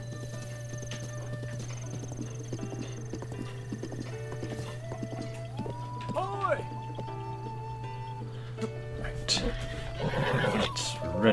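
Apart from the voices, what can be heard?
horse hooves and neighing in Zelda: Breath of the Wild, video game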